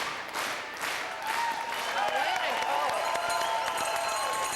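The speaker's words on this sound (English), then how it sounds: "Yes, you should be clapping, young lady." An audience at a 1996 TSN curling skins game semifinal applauds, with dense clapping and some cheering in an arena that builds and then holds steady. A commentator's voice runs underneath.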